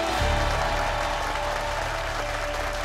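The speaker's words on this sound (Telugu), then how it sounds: "మీ చప్పట్లు ఇలాగే కొనసాగాలని కోరుకుంటున్నాను" A studio audience at a startup pitch show applauds, a dense, even wash of clapping from many hands that holds steady and loud the whole time.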